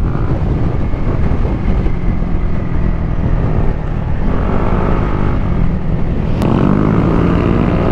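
A Honda ADV160 scooter fitted with a new power exhaust pulls away and cruises, its engine a steady, loud, rough drone mixed with wind rush, close and continuous with no talk.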